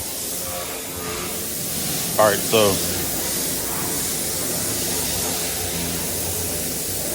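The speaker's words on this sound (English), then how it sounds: "If you hear any blowing in the background, my apologies. I am in a detail shop, so they're cleaning cars while I'm tinting cars." Steady broadband air blowing fills the background of a car detail shop where vehicles are being cleaned, a constant hiss running throughout while someone speaks briefly over it.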